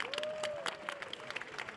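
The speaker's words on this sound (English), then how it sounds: "can we please give them a massive round of applause?" Audience applause at a live panel session on women for change, a steady wash of clapping from a crowd with a few louder individual claps, mixed with background voices and murmuring.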